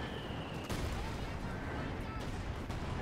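A 120mm mortar firing in the WWII strategy game Company of Heroes 2, sharp booming launches and distant thuds breaking through a dense battle rumble, with a voice talking over the combat.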